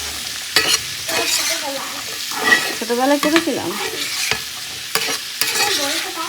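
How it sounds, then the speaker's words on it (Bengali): Papaya slices frying in a pan and being stirred, with close scraping strokes over a continuous sizzle while someone talks over it. "এখানে আমি রান্না করছি পেঁপে ভাজা"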